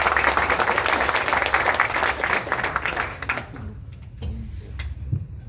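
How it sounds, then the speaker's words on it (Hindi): Audience applause at a Hindi-language function on the plight of artists and technicians, dense clapping for about three seconds that then thins to scattered claps under a low murmur and a few voices. "एक बार आप सबकी जोरदार तालियां बजाएं"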